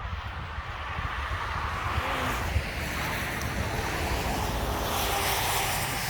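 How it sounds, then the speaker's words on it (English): Steady road traffic noise drones behind a quiet stretch of water at a Scottish viewpoint, a continuous broad rumble with no voices over it. "A lot of road noise behind us."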